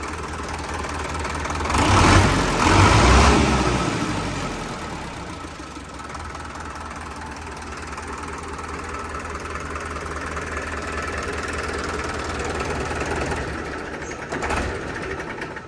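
A 2018 Sonalika tractor diesel engine runs close by, a brief rev early on, then settles into a steady rattling idle with a faint rhythmic knock throughout.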